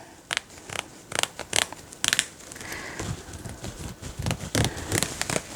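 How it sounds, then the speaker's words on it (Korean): Scissors snip through a plastic bag of potting soil at home, giving sharp crisp cutting bursts in an irregular series with crinkling plastic between, fairly close but quiet. "가위로 잘라줄 거예요"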